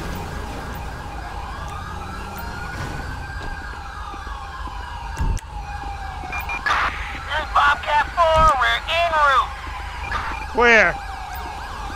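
An ambulance siren in Grand Theft Auto 5 with the LSPDFR mod rises and falls in the distance under steady background noise, while a voice speaks briefly and chirping warbles flare up near the end.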